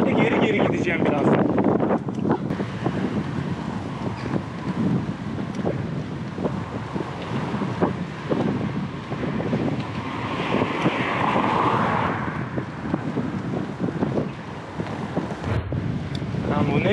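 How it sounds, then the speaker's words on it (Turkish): Heavy wind buffeting a microphone while cycling into a strong headwind on a coastal road near Kıyıköy, a constant loud rumbling roar across the clip, with speech mixed in. "Şu an rüzgar durumu abarttı."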